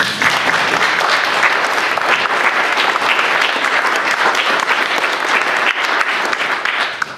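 An audience gives a panel discussion a dense, sustained round of applause, loud and close, steady from start to end.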